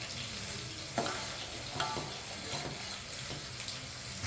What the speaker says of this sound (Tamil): இப்போ குழம்பு நல்லா கொதிக்கட்டும்